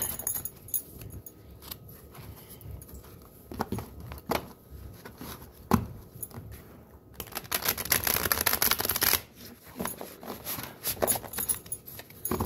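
Tarot cards being shuffled by hand, crisp rustling and riffling bursts with light taps, quiet and close, growing denser and busier toward the middle before easing off.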